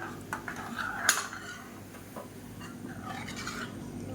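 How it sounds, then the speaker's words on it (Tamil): A metal ladle stirs and mashes kanji made from samba rava, wheat and green gram in a pot, producing soft scraping and a sharp clink against the pot over a low kitchen background. "கரண்டியை வச்சு நல்லா எல்லாத்தையும் மசிச்சு விட்டுக்கலாம்."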